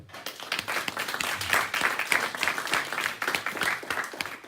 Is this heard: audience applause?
yes